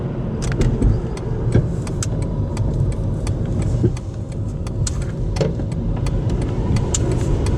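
Car cruising on a freeway, a continuous loud road and engine rumble from inside the cabin with occasional small rattles and clicks throughout.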